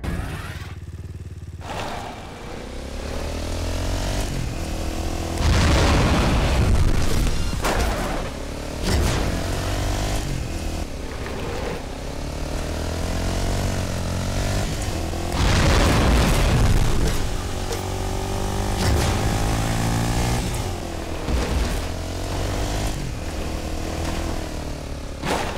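The quad crasher vehicle revving and roaring while driving around in Fortnite, a steady loud engine drone broken by repeated booming surges and thumps, with no talking.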